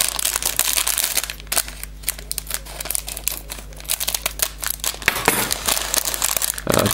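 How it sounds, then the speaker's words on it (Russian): Scissors snip and cut open the plastic packaging of a Spider-Man toy construction set, with close, busy crinkling and crackling of the wrapper throughout and a few sharper crunches near the end. "Давайте возьмем наши ножницы и аккуратно вскроем упаковку."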